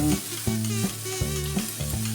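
Peanuts dry-roasting in a pan while being stirred for a fasting-day chutney, giving a steady close sizzle broken by regular scraping and rattling strokes about every half second, with no talk.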